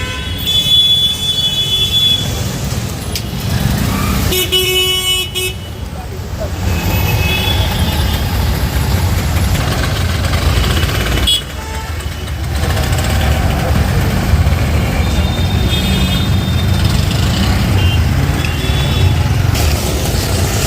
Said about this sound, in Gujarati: આજે ખૂબ જ ટ્રાફિક રહ્યો છે બસોનો.